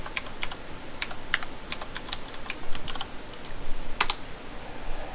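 Fingers tap out a password on a computer keyboard with caps lock, a close, irregular run of clicking keystrokes with a few sharper presses.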